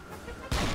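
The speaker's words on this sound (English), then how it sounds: "It's not a machine gun, it's actually a cannon." A cannon fires in the World War II dinosaur shooter Dino D-Day: a single loud, sharp boom bursts in abruptly and holds at full strength after a stretch of quieter background noise.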